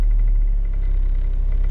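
The 2RZ-FE four-cylinder engine of a 1997 Toyota Tacoma, which has a misfire-related crank sensor fault, runs with a loud, steady, low rumbling drone close by, and no voices are heard.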